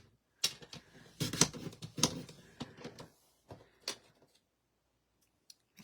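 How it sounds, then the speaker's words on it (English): A paper trimmer cuts through a stack of three pieces of cardstock at a crafting desk. A series of close, dry scraping and clicking bursts repeats for a few seconds, then a couple of faint isolated clicks follow in near silence. "I'm going to go ahead and cut through all 3 pieces of cardstock"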